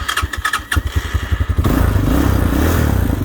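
A 2023 Taotao TBR7D motorcycle engine cranks with rhythmic chugging pulses, then catches and settles into a loud, steady running idle close by.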